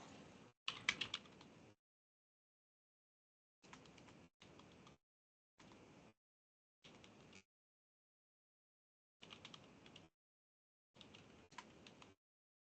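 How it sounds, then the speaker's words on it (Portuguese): Quiet bursts of typing on a computer keyboard, clusters of rapid key clicks separated by silent pauses, recorded close but faint. "Eu vou até digitar o nome aqui no chat para que vocês pesquisem"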